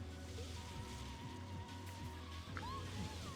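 Water splashing at a waterfall in the Mario Kart Wii racing game, a continuous soft sloshing wash mixed with engine hum and brief game effect chirps, fairly quiet.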